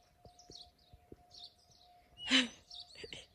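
Several small birds chirp and twitter in quick, scattered bursts at a countryside farm, with a louder trill near the end, over a faint steady hum and a few soft taps.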